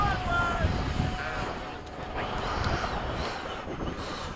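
Two RC model jets, an FMS 70mm F/A-18 and a Freewing 90mm 8s F-22, fly together at an airfield, giving a steady broadband whooshing jet roar with a faint high whine and some wind buffeting.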